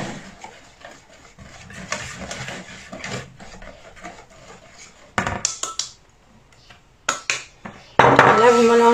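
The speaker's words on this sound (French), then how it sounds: "Et là, vous mélangez énergiquement." Brookie batter with 80 g of flour being vigorously mixed in a bowl, with scraping, clinking strokes in irregular bursts and louder clatter near the end.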